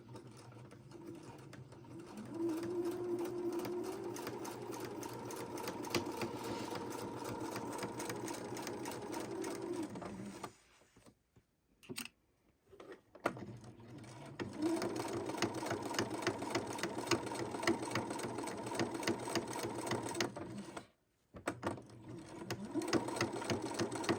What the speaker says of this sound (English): we do a quick back stitch because we want to lock in that stem